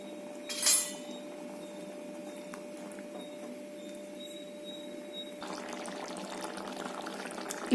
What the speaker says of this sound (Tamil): நான் மிக்ஸி ஜார் கழுவின தண்ணி தாங்க சேர்த்திருக்கேன்.